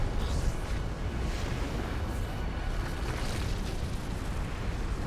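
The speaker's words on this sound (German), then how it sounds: "Das macht jetzt hier noch kräftig Bumm." Explosions in the shooter Crysis: a steady, dense roar of booming blasts and crackling bursts rolls on without pause, moderately loud and continuous, with no voices.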